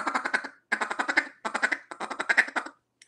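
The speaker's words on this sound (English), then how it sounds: "a feeder call sounds something like this" Four quick bursts of raspy, rolling duck-call quacks from a double reed feeder call, each a fast stuttering run of notes, separated by short pauses.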